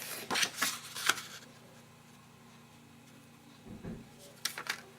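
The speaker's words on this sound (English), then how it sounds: "now I'm going to fold my card in half" A paper greeting card is folded in half along a score line, giving soft, close papery rubs and creases near the start and again near the end, with quiet gaps between.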